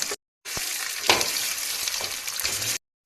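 Spiced mashed potato filling for paratha frying in a pan, a loud close sizzle with scraping stir strokes across about two seconds, alone with no voices.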